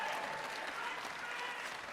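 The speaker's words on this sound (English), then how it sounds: "let's give him another round of applause" Quiet, even applause from the audience at a city council ceremony for services to sport, honouring a football referee, heard at a distance for a brief moment.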